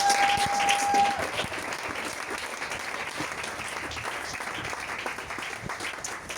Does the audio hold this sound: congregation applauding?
yes